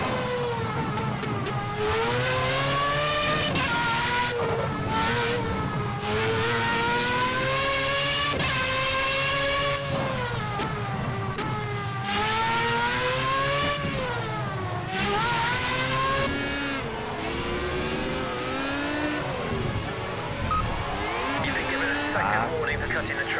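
High-revving Formula 1 race car engine in Project Cars, loud and continuous with rising and falling whines through repeated gear changes, brief tire squeals, and someone talking over it throughout.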